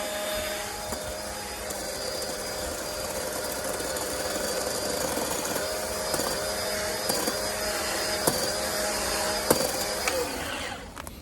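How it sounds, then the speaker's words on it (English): A chainsaw runs steadily as it cuts through wood, a constant buzzing engine drone with small rattles, cutting off at the end. "you go ahead and start up your chainsaw, and then you attack it violently and blindly"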